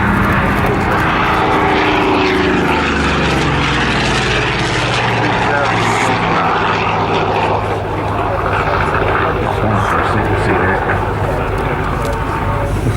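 A Vought F4U Corsair piston fighter with a Pratt & Whitney R-2800 radial engine flies at an airshow, a loud sustained propeller roar throughout, with a voice talking over it.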